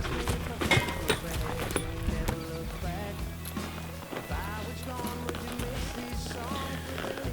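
Horses moving about and clip-clopping at a rest stop during an Idaho mule deer hunt, with irregular hoof taps and shuffling nearby while people talk over them throughout.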